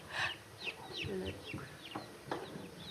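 Newly hatched chicks on an Edwardian-style farm give a rapid series of thin, high peeping chirps, close by and fairly loud, repeating irregularly for a few seconds.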